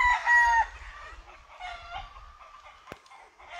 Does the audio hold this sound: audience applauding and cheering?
no